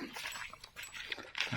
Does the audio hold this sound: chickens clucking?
no